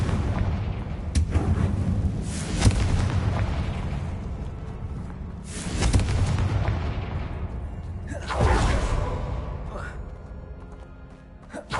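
Confringo blasting spell from a Harry Potter–style video game, a few loud booming bursts at roughly one, six and eight seconds over continuous game ambience and music, with spoken voice heard.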